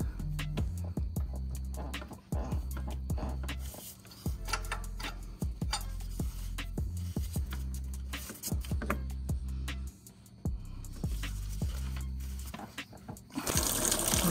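Coolant pours and drips out of the 2.0L engine of a 2011 Kia Soul during a timing belt and water pump job, an uneven run of close trickling and ticking drips with no talking.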